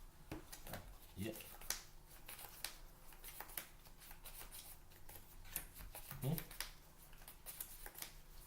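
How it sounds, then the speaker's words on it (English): A deck of playing cards is shuffled at a card game table, giving quick papery riffles and snaps over soft, faint background voices. "You gotta shuffle thoroughly"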